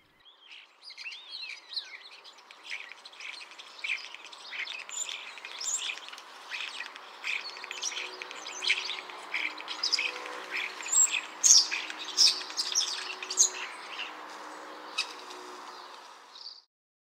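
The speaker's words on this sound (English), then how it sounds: "Starling" Starlings in the Orkney Islands chatter, whistle and squawk continuously, a dense, busy jumble of calls with sharper peaks near the end, at moderate loudness with no voices.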